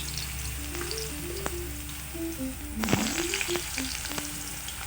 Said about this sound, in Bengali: কড়ায় সরিষার তেল দিয়ে আমি এখন আলুটা ভালো করে ভেজে